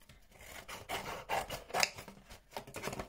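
Scissors cut through thin cereal-box cardboard for a homemade jigsaw, making a few soft, close, rasping snips and scrapes in an uneven rhythm, quiet and with no speech.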